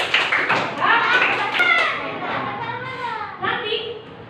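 A class of young schoolchildren chanting together and tapping out a rhythmic 'tepuk hebat' praise clap, their loud, close voices rising and falling in a sing-song pattern over light tapping.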